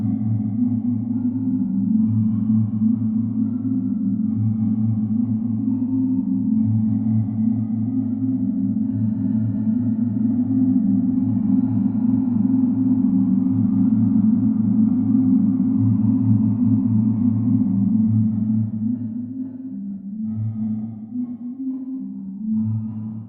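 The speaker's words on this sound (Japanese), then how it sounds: "密度の高いプレートタイプのリバーブです。" Strymon NightSky reverb pedal set to a dense plate-type texture, a smooth sustained wash of reverberant tone ringing steadily and softly for over twenty seconds, fading slightly toward the end with no talking.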